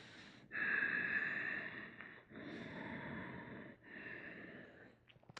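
Slow, deep breaths drawn during a modified crescent lunge in a morning yoga class: three long, airy inhale-exhale swells, close and fairly loud, each separated by a brief pause, with no talking.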